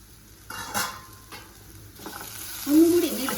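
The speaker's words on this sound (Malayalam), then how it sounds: "നന്നായിട്ട് ഇളക്കി യോജിപ്പിച്ചതിന് ശേഷം ഒരു 3 മിനിറ്റ് സമയം അടച്ചു വെക്കാം." Spiced potato pieces stirred in a pan for a potato and egg dish, with a few scraping strokes and a soft sizzle close by, growing a little louder toward the end; no talking.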